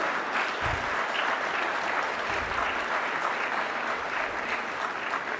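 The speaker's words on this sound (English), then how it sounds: "Ladies and gentlemen, a round of applause as India hands over to Brazil." Steady applause fills the hall as India hands the B20 presidency to Brazil, with a large audience clapping continuously at an even, moderate level.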